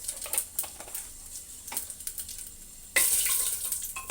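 Panch phoron whole spices sizzling in hot oil inside a pressure cooker, a steady crackling hiss with small pops, which grows suddenly louder and brighter near the end.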